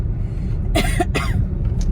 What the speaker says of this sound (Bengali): আমার একটা খুশখুশে কাশিও হয়েছে